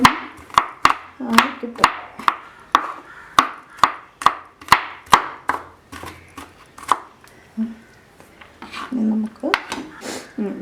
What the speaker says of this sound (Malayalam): വേണമെങ്കിൽ ഒന്ന് കൊത്തി മുറിക്കാം.